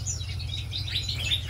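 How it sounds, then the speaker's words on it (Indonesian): Many small birds chirp and tweet in quick overlapping bursts inside a morning aviary, bright calls over a steady low hum. "suasana pagi di kicau alam aviari."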